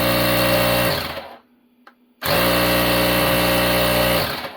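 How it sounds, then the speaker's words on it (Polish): The air compressor of a VEVOR electric hydraulic car jack whirs loudly and close. It runs in a steady motorized drone, cuts out for under a second, then starts again and keeps running before winding down. "Sprężarka się włącza"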